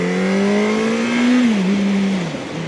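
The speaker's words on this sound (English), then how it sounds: "we'll finish up throttle blipping here" A motorcycle engine is blipped on the throttle during a downshift, giving a close, loud rising and falling rev lasting a couple of seconds, with no talk over it.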